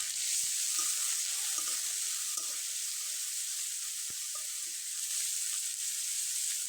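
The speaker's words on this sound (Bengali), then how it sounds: "পেঁয়াজ কুচি, রসুন কুচি, আদার কুচি এবং মরিচ কুচি দিয়ে খুব ভালোভাবে একটু নেড়ে চেড়ে নিব" Chopped onion, garlic, ginger and chili, with black cumin, are stir-fried in oil, an even hiss like running water with a few faint clicks of stirring, steady and close, with no speech.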